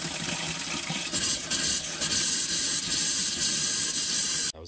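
Compressed air forces water and spray out of the hot side of an RV faucet in a small half bath at the back of a camper, a steady loud hissing gush that runs nearly five seconds before cutting off abruptly.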